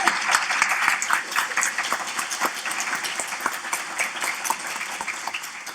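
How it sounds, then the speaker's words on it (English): An academic symposium audience applauds during welcoming remarks, a steady, even round of many hands clapping that gradually fades, with no talk over it. "I do think she deserves a round of applause"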